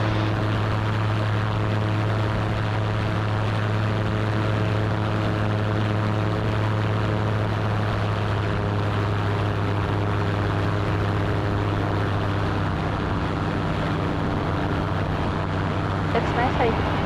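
A small seaplane's propeller engine roars steadily and loud from inside the cabin as it powers up for a go-around, a constant droning hum with no voices.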